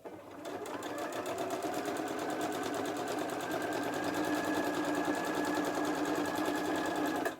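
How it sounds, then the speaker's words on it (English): A sewing machine runs steadily on a long basting stitch in blue thread down the full length of a star place mat panel, a close, even whir held for about seven seconds with no talk. "I'm going to sew along the full length of that panel there"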